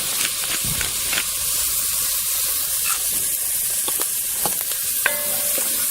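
Diced onion sizzling in a pot seasoned with kosher salt and pepper, a steady close frying hiss with occasional stirring clicks and spatters, no talking.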